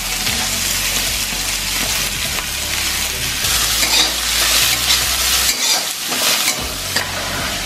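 Onion and garlic sizzle in hot oil while being stirred, a loud, close crackling fry broken by repeated scrapes and clinks of the spoon against the pan.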